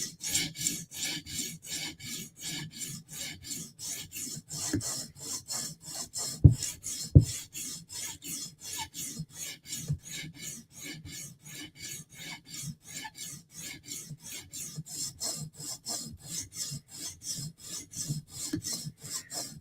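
Rhythmic back-and-forth rasping of a Spyderco knife edge stroked across a sharpening stone, steady evenly spaced strokes close up, with a couple of brief knocks partway through.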